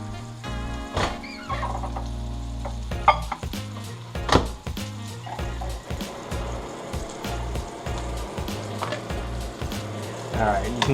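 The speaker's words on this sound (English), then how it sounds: "you can hear the meat starting to cook here" Meat sizzles as it cooks in a pan, a steady crackling fry with scattered pops and clatter over a low background hum.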